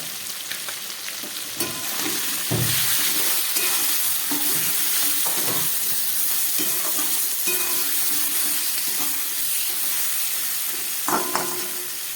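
Turmeric and spices sizzle in hot oil for Bengali chicken soup, a steady close frying hiss broken by scraping stirs and clinks of a utensil, with no talking.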